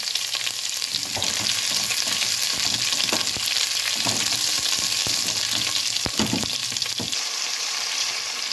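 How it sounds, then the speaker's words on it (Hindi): Ground spices fry in a pan for sarson ka saag, a loud, constant sizzling hiss with intermittent scraping stirs and clinks of a spoon against the pan. "मसाले को अच्छी तरह भूनना है"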